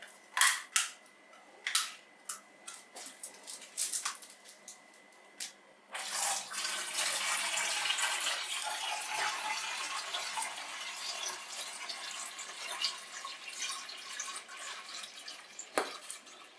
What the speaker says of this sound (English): pour in 5 litres of water